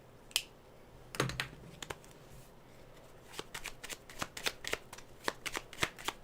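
Tarot cards are shuffled close by in quiet, irregular riffles and soft slaps, a run of crisp little card clicks that quickens toward the end, with no talk.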